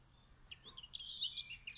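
A few faint, high bird chirps and short warbling notes in a quiet outdoor setting.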